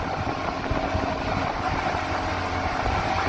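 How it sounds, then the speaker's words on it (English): A low, steady engine drone of motorboats passing at a moderate distance, with a constant hum and no talking. "And here we got some other boats coming by."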